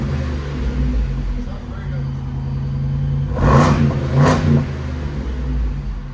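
Close, steady V8 rumble from a Ford F-250 6.8L fitted with a Carven R-Series exhaust, broken by two quick throttle blips that swell and fall back to idle, with voices heard over the engine.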